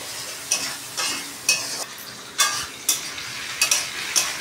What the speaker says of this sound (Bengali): এই যে এটা ভালো করে ভাজছি।